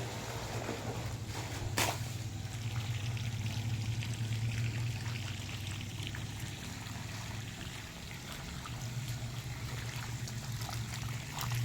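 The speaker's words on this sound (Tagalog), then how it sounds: "so lagyan na natin ng tubig." Water poured into a tilapia fingerling pond, a steady rushing, splashing stream that runs continuously at close range with a low hum underneath and no talking.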